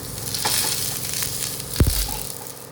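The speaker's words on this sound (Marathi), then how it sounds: "ह्या रवलेल्या भागावर आपल्या तेल लावून घावणं घालूचा" Ghavan rice batter sizzles steadily on an oiled pan, a continuous bright frying hiss with a brief louder scrape or clatter near the middle.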